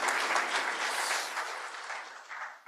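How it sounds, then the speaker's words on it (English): A conference audience applauds at an opening session, giving a dense, even patter of many hands that holds steady and then fades toward the end, with no talking. "please, a huge applause for Drahomira and all the team in Zadar"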